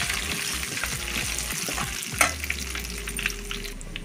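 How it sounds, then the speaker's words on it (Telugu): Dried red chilies fry in hot oil with a steady close sizzle, a sharper crackling burst partway through and a light stir or two, with no voices. "ఒట్టిమిరపకాయలు వేసుకున్న తర్వాత ఇలా వేయించుకోవాలి"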